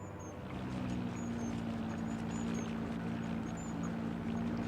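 An outboard motor boat drones steadily on a northern lake where Saulteaux people of Pungassi gather wild rice, a moderate, even engine hum with no break.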